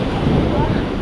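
Ocean waves and wind wash against a small outrigger boat that is taking on water and capsizing, a steady broadband rush of surf and spray close by, with shouting voices around it.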